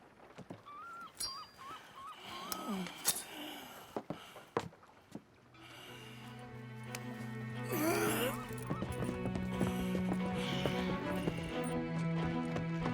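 Horses in the Red Dead Redemption II video game clip-clop and whinny, with scattered hoof knocks and a neigh early on, then a denser blend of hooves under swelling tonal background music.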